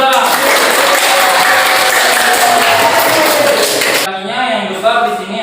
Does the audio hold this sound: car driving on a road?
no